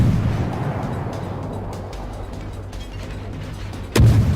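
World of Warships naval guns fire in a steady low battle rumble, with a single sharp, loud blast landing near the end.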